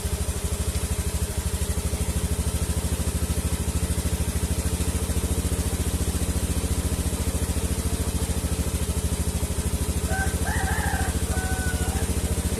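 Honda Scoopy FI scooter engine idling near 1700 RPM, a warm engine with a misfiring, sputtering fault, running as a loud, steady, close pulsing drone with a faint chirp near the end.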